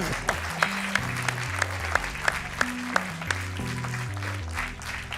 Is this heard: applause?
yes